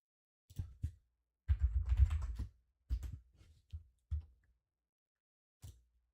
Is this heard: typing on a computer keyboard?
yes